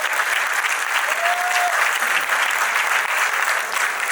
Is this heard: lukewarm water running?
no